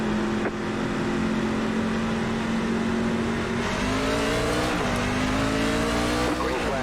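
Race trucks on an iRacing track roar off at a green flag start, engines droning loud and steady as the pack accelerates, pitch rising with occasional tire squeal.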